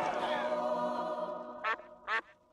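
A cartoon duck in The Simpsons quacks twice in quick succession, loud and close, at the end of a sustained tonal musical or voice passage.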